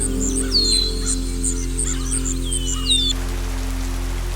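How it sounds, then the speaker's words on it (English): Rain falls steadily in a natural outdoor setting as a constant hiss, while birds call repeatedly with short swooping chirps in the first few seconds before the calls drop away. "Rain and nature sounds creates a relaxing ambience that can lighten up your heart, mind and soul."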